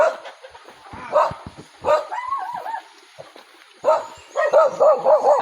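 A dog barks and yelps in short bursts, a few loud, agitated barks with pauses between, fairly close.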